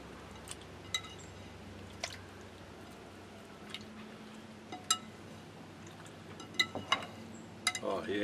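Soft wet squishing and occasional light clinks as beef is mixed by hand in a marinade for griddle beef jerky, quiet and close with intermittent sharper ticks.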